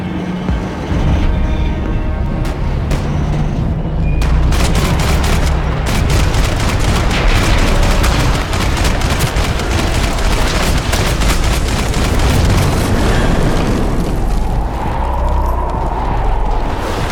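Constant, loud gunfire in the action shooter Max Payne 3: rapid automatic bursts and overlapping shots packed densely together for the whole stretch, with mechanical clatter and booms mixed in and no clear pauses.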